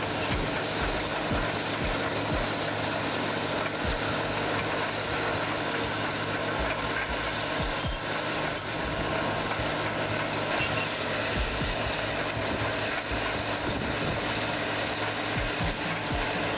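Bulldozer rear ripper tearing through earth, a steady, dense grinding and scraping roar with engine drone that holds loud and unbroken throughout.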